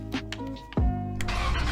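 A Nissan Skyline R32 in the Roblox game Greenville starts up: a few clicks, then an abrupt engine catch that settles into a steady, close idle drone.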